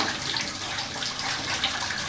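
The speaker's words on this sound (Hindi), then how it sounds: "काफी गर्म पानी आ रहा है इसके अंदर से" Hot water gushes out of an electric geyser during servicing, a loud, continuous hissing stream running steadily and close by.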